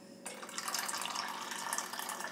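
Liquid beef fat poured through a drain-hole lid into a container, a steady close splashing and trickling stream that starts abruptly and runs continuously without any talk.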